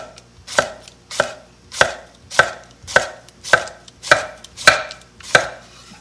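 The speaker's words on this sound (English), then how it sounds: "let me slice." A knife slicing through Korean cucumber on a cutting board, with about nine crisp, evenly spaced chops at a steady rhythm, close and clear with no talking.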